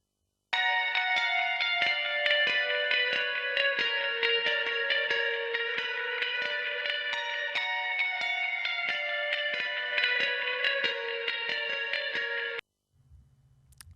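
A compressed clean electric guitar for a metal mix plays a steady run of ringing picked notes, bright and even in level, for about twelve seconds before stopping abruptly into near silence.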